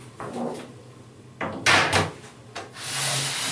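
Desktop computer tower's side panel being pulled off after its rear screws are removed: a few scraping, thudding handling sounds and a longer sliding rasp near the end, close and moderately loud, with no speech.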